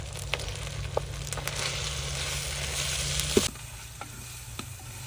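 Green chillies and tomatoes hit hot oil over browned onion, ginger and garlic, giving a steady close sizzle with stirring scrapes and a low background hum. The sizzle drops in level near the end.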